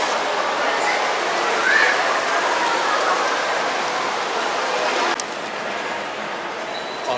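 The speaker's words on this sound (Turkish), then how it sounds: "Burası yağmur mu yağıyor lan?" Steady rain in Singapore, a dense broadband hiss of drops on surfaces that holds evenly and eases slightly in intensity partway through, heard close and loud without talk.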